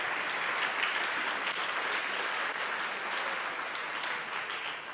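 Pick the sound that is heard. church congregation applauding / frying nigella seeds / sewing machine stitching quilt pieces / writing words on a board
church congregation applauding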